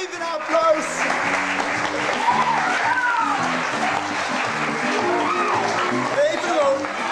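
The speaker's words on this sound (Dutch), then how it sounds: "Even een applaus!" Children and adults at a Mariaschool festival week in Hoorn clap for a performer, a continuous patter of applause mixed with excited voices and high calls throughout.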